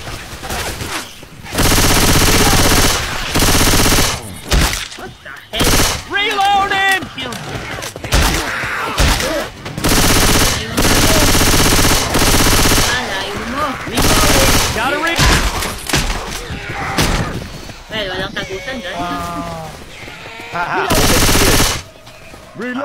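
Rapid bursts of automatic gunfire in a shooting video game, loud and close, repeating in long volleys with short gaps, while players shout and talk over the shots.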